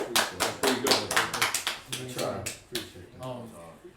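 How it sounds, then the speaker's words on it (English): A small group claps in a quick, uneven burst of applause, with a voice talking over the claps. "round of applause for John."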